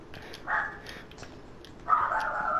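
A dog barks twice in the background, two short sharp barks about a second and a half apart, at moderate volume, with no speech.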